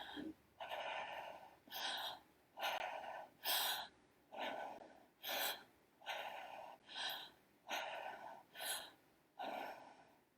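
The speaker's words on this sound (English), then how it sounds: "let's all do a set of 5 breaths together" Deep breaths drawn and released in a slow, steady rhythm during a therapeutic breathing exercise, each inhale a clear airy rush close to the microphone with pauses between.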